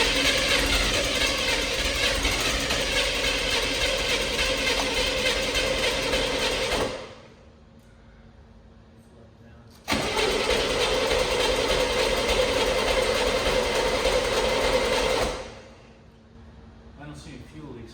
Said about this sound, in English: I don't know what that rattle is. I think it's the fan.